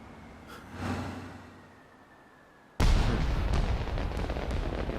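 Fireworks burst in Ni No Kuni 2: Revenant Kingdom, a faint thump and fading rumble first, then a sudden loud blast followed by a sustained crackling roar.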